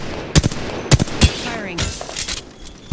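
Gunfire in the Apex Legends video game with a carbine and Wingman: three or four sharp, loud single shots spaced about half a second apart, followed by a few fainter cracks and a whirring effect.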